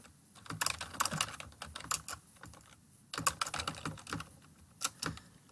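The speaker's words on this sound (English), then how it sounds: "I got to learn to type better." Someone types on a computer keyboard, producing quiet, close, irregular bursts of clicking keystrokes with short pauses between flurries.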